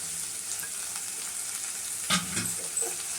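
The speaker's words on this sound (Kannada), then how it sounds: "ಇದನ್ನು ಒಂದು ಸ್ವಲ್ಪ ಫ್ರೈ ಮಾಡಬೇಕು ಬೆಳ್ಳುಳ್ಳಿ ಫ್ರೈ ಆಗಿದೆ" Crushed garlic and chilli powder fry with onions in a pan, making a steady close sizzle with a couple of sharp stirring scrapes near the end, and no voices.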